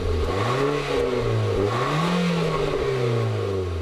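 A 2017 Nissan Sentra NISMO's 1.6-liter turbocharged four-cylinder, paired with a tuned continuously variable transmission, revs and accelerates up and down in a steady, close, loud engine drone with no talking.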